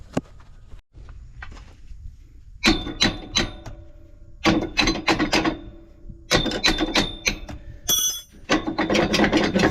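A ratchet wrench clicks rapidly in repeated bursts, working U-bolt nuts loose on the suspension of a Brinkley RV during a Roadmaster shock install, loud and close with short pauses between runs.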